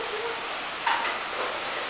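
Steady soft rain falls on a gloomy, darkened Sunday, a broad even hiss throughout with a brief swell near the middle.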